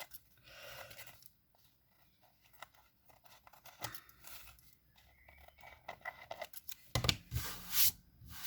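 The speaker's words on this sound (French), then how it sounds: "Je vais prendre les ciseaux pour couper au moins ce qui dépasse déjà au départ." Scissors cutting through material during a craft project, a series of close, crisp snips and rustling scrapes spread irregularly over several seconds, with a louder handling noise near the end.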